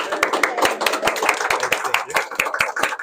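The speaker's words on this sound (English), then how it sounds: "Everyone give a round of applause." Clapping from a small group gathered at a ribbon cutting for a local business, with irregular sharp claps close by over a murmur of voices for about three seconds.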